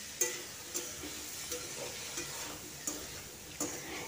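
Banana flower frying in a pan with cumin and turmeric for a chickpea banana flower dish, a soft steady sizzle broken by sharp spatula scrapes roughly every 0.7 seconds as the mixture is stirred.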